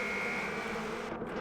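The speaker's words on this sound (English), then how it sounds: "Not the bees! Jesus, the bees are annoying." Bees buzzing in the video game Far Cry, a dense continuous droning hum, loud and close, with no voices over it.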